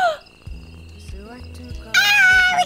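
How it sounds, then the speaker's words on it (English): A cat meows in a video game about hitchhiking, with several short rising meows over a steady low game-music background, and a louder bright burst of sound near the end. "Pet cat."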